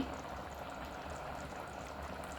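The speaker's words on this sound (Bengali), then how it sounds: "গরম পানি দিয়ে দিছি বলকে চলে আসছে" Water comes to a boil in a pot of biryani cooking with green chillies, a faint, steady bubbling hiss with a low rumble underneath, continuous and even.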